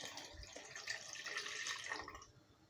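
Water pours quietly into a pot of partly cooked meat being returned to the heat, a brief, soft splashing stream.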